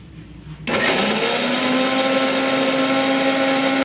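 Electric mixer grinder whirs into action, blending onion, garlic and coconut into a paste; after a brief quiet moment the motor kicks in with a loud, steady high-pitched whine that runs until it cuts off.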